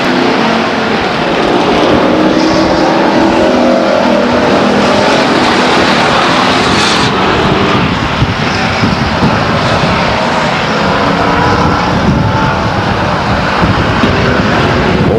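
A pack of race cars roars through a heat race at Stockton 99 Speedway, engines blaring loud and continuous as they lap the oval, with a dense steady drone and no pauses.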